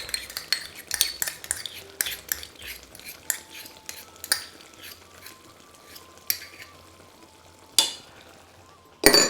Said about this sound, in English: what I'm going to add now is the salt and the tamarind